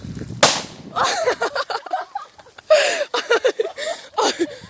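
One sharp, close firecracker bang set off inside a pile of dung, followed by people laughing and chattering.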